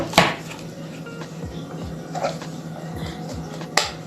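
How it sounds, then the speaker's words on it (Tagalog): Apples chopped in a kitchen food chopper produce a few sharp clacks and softer knocks against a faint steady hum, with a louder snap at the start and another near the end. "Tapos yung apple natin dito natin sa chopper natin."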